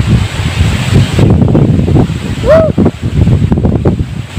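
Wind gusting outdoors at a food stall on an island, a steady broadband rush buffeting the microphone throughout, with a brief whistle-like tone midway and voices in the background.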